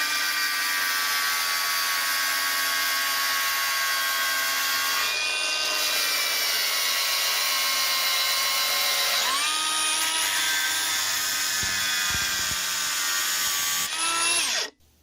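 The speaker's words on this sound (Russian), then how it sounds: "Придется пилить болгаркой, молотком, мало что получается." An angle grinder cuts plastic on a stroller being stripped for aluminium scrap, a loud continuous high whine that dips in pitch a few times as it bites, then cuts off at the very end.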